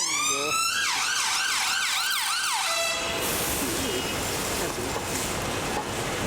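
An ambulance siren in London traffic near Hyde Park Corner wails loudly, shifting to a fast yelp before cutting off into a rumble of passing traffic, with someone talking over it.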